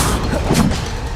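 Confringo fire-blast spell bursting in Hogwarts Legacy, a short dense rumbling impact with a low thudding body that fades within about a second, loud and close.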